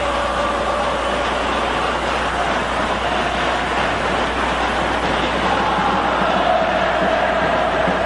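Vasco da Gama supporters in a football stadium during a 1981 Brazilian championship match against Internacional, a dense continuous crowd roar filling the whole stretch at steady loudness, with no voices standing out.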